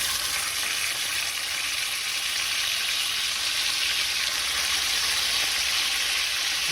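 Thinly sliced beef for Filipino bistek fries in a pan, giving a steady, loud, close sizzle that stays even throughout with no talk.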